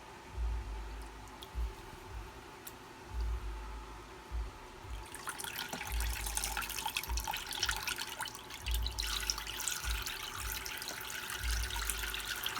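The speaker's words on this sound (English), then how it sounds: "Just a dunk and drain." A microgreen tray is dunked in water and left to drain, giving a steady close splashing and trickling wash that starts softly and then grows fuller and continuous, with a low rhythmic thumping underneath.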